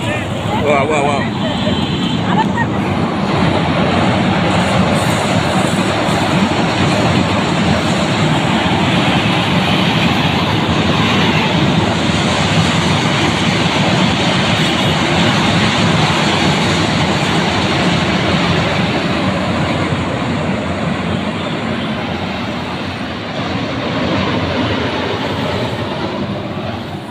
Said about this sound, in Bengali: ট্রেন পাশ দিয়ে গেল